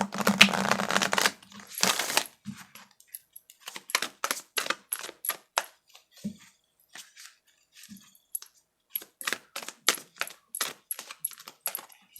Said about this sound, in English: And give them all a good shuffle.